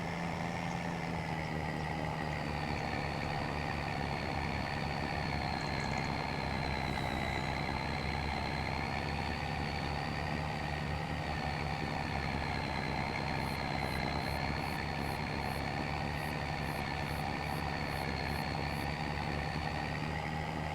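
A tractor engine pulls steadily uphill on a gravel county road in Farming Simulator 25, a constant low droning hum with a faint high whine over it, with no break throughout and no voices.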